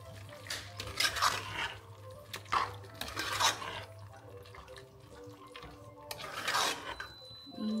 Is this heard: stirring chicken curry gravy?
yes